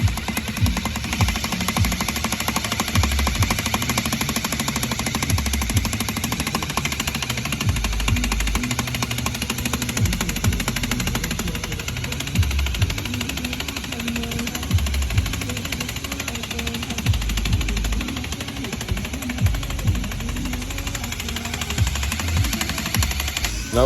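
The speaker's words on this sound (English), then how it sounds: "I'm just put the drill at the end right here." A power drill spins a Skunk2 Tuner 3 camshaft in a Honda K-series engine, producing a loud, steady, rattling mechanical chatter that stays continuous throughout with no talk.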